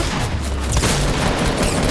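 Gunfire in the video game Fortnite, a dense continuous barrage of shots and booming blasts that stays loud for the full two seconds with no pauses.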